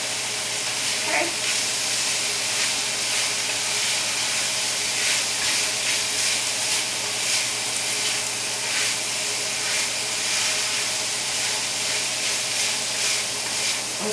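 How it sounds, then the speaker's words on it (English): Chopped vegetables such as carrots and celery sauté in a pan for chicken and orzo soup, a steady close sizzle and hiss with occasional faint stirring clatter. "I'm going to go ahead and saute all of that, all those veggies"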